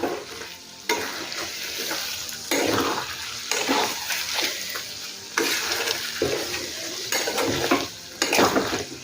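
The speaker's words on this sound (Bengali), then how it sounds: "লবণ চিকেনের সাথে আবারও মিশিয়ে নেব।" Chicken stirred with spices and salt in a pan for chicken korma, loud bursts of sizzling and scraping come in uneven waves as the spoon turns the meat, with brief quieter gaps between strokes.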